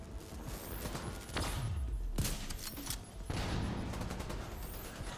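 Bursts of gunfire and mechanical clatter in the video game The Division 2, loud sustained fusillades with thumps and creaks in between.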